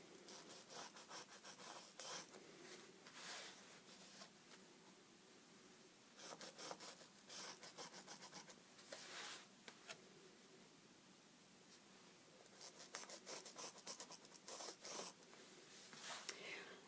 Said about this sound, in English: So I'm going to draw a line a 1/2 inch out from this edge, the edge that I just cut, all the way around.